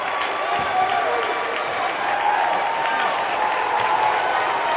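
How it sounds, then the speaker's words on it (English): Basketball fans of Bethel on their feet applauding in a gym, a steady wash of clapping and crowd noise at even loudness with a faint voice mixed in. "applauding the play of Gage Ott."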